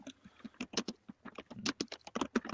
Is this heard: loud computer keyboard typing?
yes